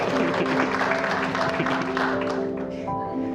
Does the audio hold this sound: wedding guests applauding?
yes